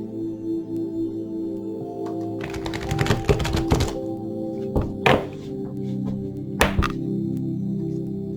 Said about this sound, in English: So let's shuffle your tarot cards.